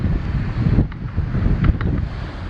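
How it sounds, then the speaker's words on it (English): Strong wind buffets the microphone at a lakeside campsite on a canoe trip, a loud, steady low rumble with gusty swells and faint water and rustling beneath. "it is gonna be a windy one"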